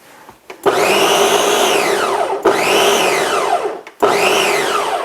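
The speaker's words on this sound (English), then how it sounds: "the blender does most of the work for you" A blender whirs loudly in three long bursts while blending vegetables for egusi soup, its pitch swooping up then sagging as the blades chew through the load, with brief pauses between runs.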